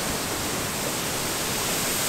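A steady, full roar of rushing water from a large waterfall at a campsite, continuous and close, with no talk over it.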